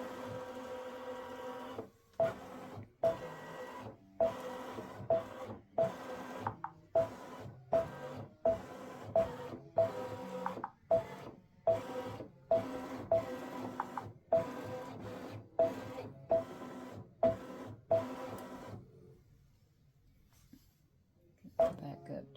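A quilting machine stitches an edge-to-edge autumn leaves pattern in a regular series of rhythmic mechanical pulses that stop near the end, with a person talking over it.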